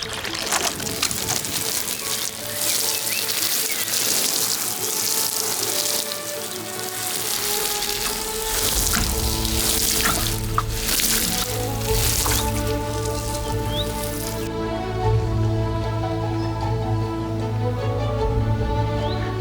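Water sprinkles and patters steadily onto a newly planted rustic cottage garden bed, a continuous splashing hiss that holds fairly loud throughout, with faint background sounds and no speech.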